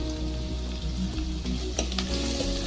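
Onion, garlic, green chilli and turmeric fry in oil in a pan with a steady, close sizzle and crackle, broken by a few sharp clinks of a stirring spoon.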